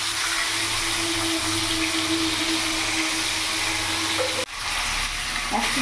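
Pieces of chandana hilsa fish fry in hot oil with a loud, constant sizzle. A steady hum runs underneath, and near the end a sharp clatter cuts in as the fish is moved in the pan.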